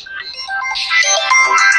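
A phone ringtone plays loudly and steadily for its whole length, a bright repeating electronic melody, ringing during a village comedy sketch before the call is answered.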